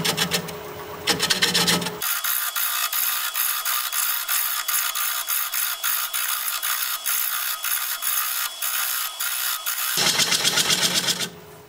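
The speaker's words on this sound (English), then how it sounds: "We're going to be turning at 470 RPM, 5/8 inch bowl gouge" A wood lathe spins at 470 RPM as a 5/8-inch bowl gouge cuts a vase blank, giving a steady, loud, close scraping rasp with rhythmic ticks for most of the stretch, heavier body noise at the start and end.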